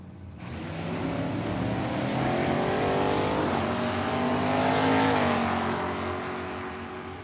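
A drag race car, with a Mustang in the field, roars loudly down the strip at Tucson Dragway. The engine note swells and holds strong for several seconds, then fades slightly as it pulls away, with no voices over it.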